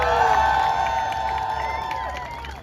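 A large rally crowd cheers and claps in a steady, loud wash of whoops and applause that carries evenly throughout, with no voice standing out.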